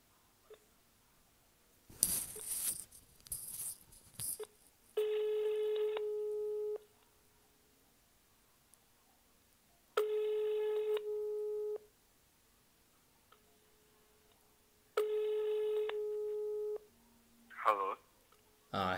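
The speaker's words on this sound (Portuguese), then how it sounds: "Bora ligar pro Luiz, então" A telephone ringback tone sounds while a call is placed on speakerphone: three evenly spaced, steady electronic tones, each lasting about two seconds, with quiet gaps between them and brief handling noise before the first tone.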